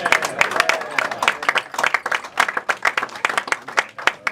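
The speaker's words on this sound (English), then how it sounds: "I think that deserves a special round of applause." An audience applauds a pilgrim who walked over 1,000 miles from Madrid, a dense burst of many hands clapping in a rapid, uneven rhythm that pulses throughout, fairly close and loud.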